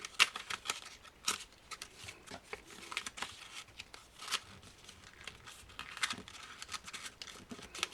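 Paper craft pull tabs are folded and pressed down, giving faint, close crinkles and soft scraping rustles in scattered bursts, quiet with no voice.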